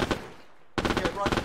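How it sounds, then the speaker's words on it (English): Enemy machine-gun fire in the World War II game 2.Panzer-Division rattles in short, sharp bursts. It stops for a moment and then comes back as a fast run of close, punchy shots. "Enemy MG fire from the east."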